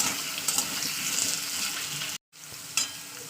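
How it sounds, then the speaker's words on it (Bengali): Raw green banana and potatoes sizzling hard in hot oil over a full flame, a steady bright crackle with occasional stirring scrapes and a brief silent gap near the end. "আমি তিন থেকে চার মিনিট আলুগুলোকে পুরো ভাজা ভাজা করে নিয়েছি"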